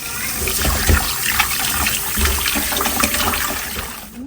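Tap water runs steadily into a sink as prawns are washed, a close, continuous splashing rush with occasional thumps of handling and no talking.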